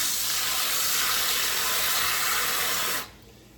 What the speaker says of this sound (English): So we'll add water to that